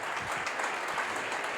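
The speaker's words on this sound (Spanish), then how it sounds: "Démosle un aplauso al Señor." A congregation claps during a church sermon, a soft, even patter of many hands that holds steady throughout without speech.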